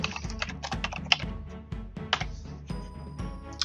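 Typing on a computer keyboard while entering a team name, a steady run of quick close key clicks with irregular rhythm and a few louder strikes, no voices.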